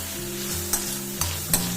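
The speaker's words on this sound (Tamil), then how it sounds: "வெங்காயம் கொஞ்சம் நல்லா வதங்கட்டுங்க." Onions sauté and sizzle in a pan for Chettinad prawn kulambu, a steady close frying hiss broken by three quick scrapes of a stirring spoon.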